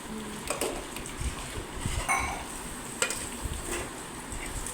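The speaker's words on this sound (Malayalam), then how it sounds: "അപ്പോൾ അതും കൂടെ ചേർത്തെടുത്ത് നന്നായിട്ടൊന്ന് ഇളക്കി കൊടുക്കുന്നുണ്ട്" Shallots, curry leaves and green chillies being stirred in a pan for a Kerala fish curry with kudampuli: soft scraping and faint sizzle with a few sharper clinks of the spoon, steady and quiet, no voices.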